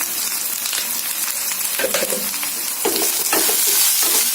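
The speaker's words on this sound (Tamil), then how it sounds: "இது இன்னும் கொஞ்சம் நல்லா வதங்கணும், ஃப்ரை ஆகும்." Onions fry with salt in a pan for mutton pepper fry, a loud, continuous crackling sizzle broken by repeated spatula scrapes and stirring clatter up close.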